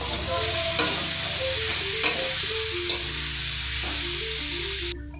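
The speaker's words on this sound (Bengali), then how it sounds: "এবার কচুর লতিটা দিয়ে দেবো।" Taro stolons (kochur loti) frying in a pan, a steady bright sizzle under occasional stirring scrapes, close and with no voices, with faint background music and an abrupt stop at the end.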